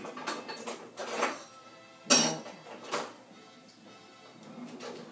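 Kitchen utensils clatter and clink in a few separate bursts as someone rummages for a metal spatula, with one sharper metallic knock in the middle and quiet pauses between, no talking.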